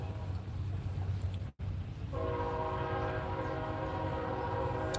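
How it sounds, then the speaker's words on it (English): A train passes in open country, its low rumble steady throughout before a loud sustained horn blast enters partway and holds to the end, heard alone without talk. "there's a train, if you guys can hear that"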